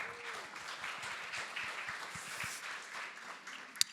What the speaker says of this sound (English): So give a round of applause for this distinguished group.